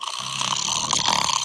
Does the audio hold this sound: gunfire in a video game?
no